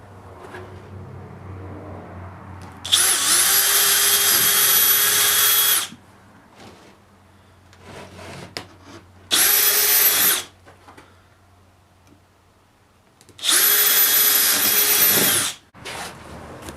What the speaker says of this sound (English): Then drill them a little bit oversized.